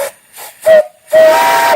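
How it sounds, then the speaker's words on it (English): An off-grid steam engine boiler whistle blows in two short toots and then one longer blast, shrill and hissing, close by with no talk. "Nice whistle, great sound"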